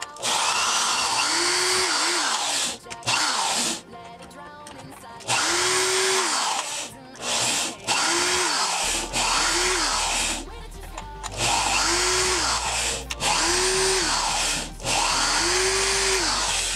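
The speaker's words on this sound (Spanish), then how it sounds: "Y pasaremos a taladrarlos, a hacerles un pequeño orificio, ya sea como yo, con un taladro" An electric drill boring small holes, likely in a can for a homemade emergency alcohol stove, in repeated short bursts of high whining motor with rising and falling pitch, separated by brief pauses, close and loud.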